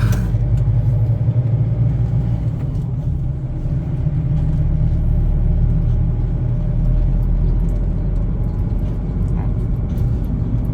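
A 2022 Isuzu D-MAX 3.0 four-wheel-drive pickup engine runs with a steady, loud low rumble throughout, without a break and without any talk.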